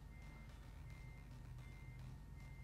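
A truck's reversing alarm beeps in a steady repeating pattern in a driving video game, quiet and over a constant low engine hum.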